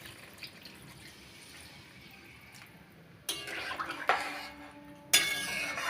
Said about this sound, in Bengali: এই অবস্থায় আমি এবার জল দিয়ে দেব।